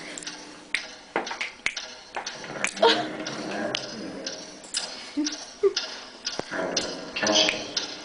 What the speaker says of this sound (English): What is that mysterious ticking sound?